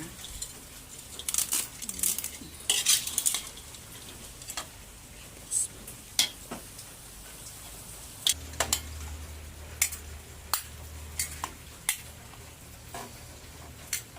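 Pancit noodles are stirred in a pot with a utensil, giving faint sporadic clinks and taps against the metal over a low background hum.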